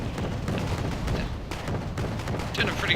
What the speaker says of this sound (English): LAV-25 is a very nice vehicle as it has the Bushmaster. Very powerful auto cannon it is. And it's gonna start firing its shots.